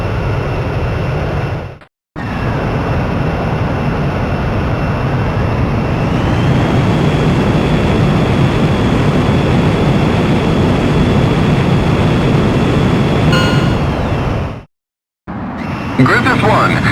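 In the Ace Combat X game, a fighter jet roars loudly and continuously during takeoff, with a whine that rises in pitch partway through and brief silent cuts near the start and end, under radio chatter.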